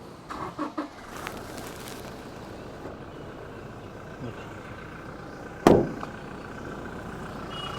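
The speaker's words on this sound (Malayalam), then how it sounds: "നമ്മളിപ്പോൾ വണ്ടി സ്റ്റാർട്ടാക്കിയിട്ടുണ്ട്. ഇതാണ് വണ്ടിയുടെ സൗണ്ട്" A Toyota Innova Crysta engine idles steadily after starting, a low continuous hum with a few clicks near the start and a sharp knock partway through.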